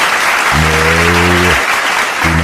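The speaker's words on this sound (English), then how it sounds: "Do not applaud this man." An audience applauds in a dense, steady wash of clapping, while a voice holds a long sustained shout over the middle and again near the end.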